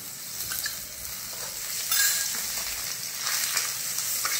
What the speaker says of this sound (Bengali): আদা রসুনের কাঁচা গন্ধটা চলে যাওয়া পর্যন্ত কষিয়ে নেব।